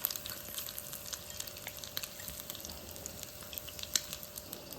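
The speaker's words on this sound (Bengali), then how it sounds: "পিৎজার মধ্যে দেওয়ার জন্য পেঁয়াজগুলোকে একটু ফ্রাই করে নেব হালকা করে" Onions frying gently in a little white oil for chilli pizza in a tiny kitchen, giving a faint, steady crackling sizzle with small pops and no voices.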